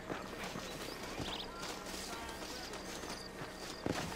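Horse hooves clip-clop at a walking pace in Red Dead Redemption, faint and steady, with quiet game ambience and a brief thump near the end.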